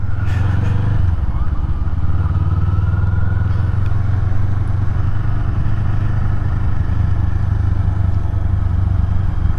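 Kawasaki Eliminator motorcycle cruising on an Idaho ride, its engine a steady, loud low drone throughout with constant wind rush and no break in the sound.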